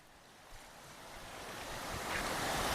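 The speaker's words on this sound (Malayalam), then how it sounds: "വെള്ളത്തിൻ്റെ സൗണ്ടൊക്കെ നിങ്ങൾ കേൾക്കുന്നുണ്ടോ" Water flowing along a small stream, a continuous hiss and rush that grows steadily louder as the source draws nearer, with no talking.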